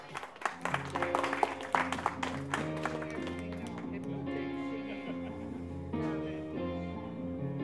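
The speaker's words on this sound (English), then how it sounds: "another big round of applause," A live audience applauds a performer, the clapping strongest at the start and soon blending under sustained musical chords that carry on to the end.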